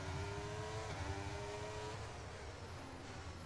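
Formula racing cars in a racing game, one on medium tyres, rev and accelerate off the start line with rising engine tones and quick upshifts, the whine fading slightly as it goes.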